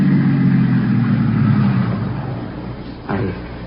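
Car engine idling outside in an old suspense radio drama, a low steady rumble that fades somewhat, with a brief shift near the end.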